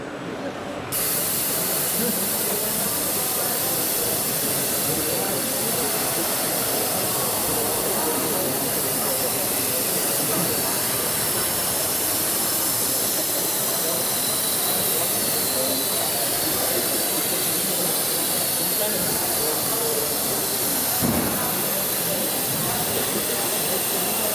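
A robot's suction gripper hisses steadily and loudly for over twenty seconds, a constant broadband rush of air with only slight wavering, during a warehouse stowing task.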